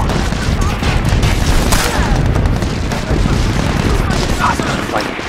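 Heavy machine gun fire rattles through a combat scene in the video game SOCOM 4: a steady, loud, continuous barrage of close bursts mixed with explosions and battlefield noise.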